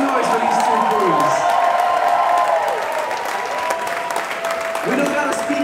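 A crowd claps, cheers and shouts for two dance crews after a breakdance battle semifinal, loud and sustained, with a voice over the noise and whoops rising and falling throughout.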